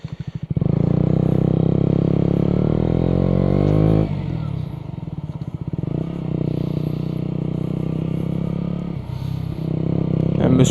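A motorcycle engine drones steadily as the bike rides along, its pitch shifting with gear changes and revs, fairly close and loud.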